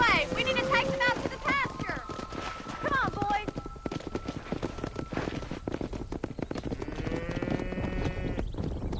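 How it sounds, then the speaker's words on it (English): Cattle herd driven down a road in Red Dead Redemption, with horse hooves clopping steadily under a chorus of animal bleats and lowing calls, some sustained and tonal, close and moderately loud, with talk over it. "Herd the cows down the road."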